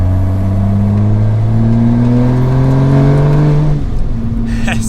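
A 600 wheel-horsepower wide-body Toyota Supra accelerating, its engine tone climbing steadily through a long gear before dropping at a shift, loud and close from inside the car.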